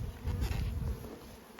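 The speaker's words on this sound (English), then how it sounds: "There's certainly lots of bees around." Bees buzz around hives in a low, dense drone close by, loudest at first and then easing off, with no one speaking.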